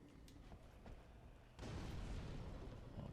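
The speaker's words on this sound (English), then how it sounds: "let's ambush them with fire bombs of our own" Fire bombs burst in Dark Souls 3, a muffled boom at about 1.5 seconds followed by a sustained, dense roar of flame and rumble that holds loud to the end, with smaller pops before it.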